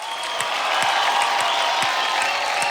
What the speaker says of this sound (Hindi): एक बार जोरदार तालियां मारिए आदित्य के लिए।